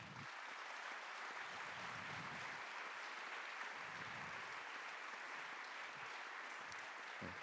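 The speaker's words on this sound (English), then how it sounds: "je vous propose de l'applaudir" An audience applauds steadily throughout a French-language talk event, a dense, even patter of clapping heard from within the room with no voices.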